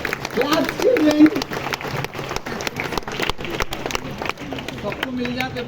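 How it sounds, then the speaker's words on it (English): Children applaud at a school prize ceremony for a Hyderabad arts and songs competition, a busy, sustained patter of claps mixed with crowd noise and voices throughout. "Claps, children."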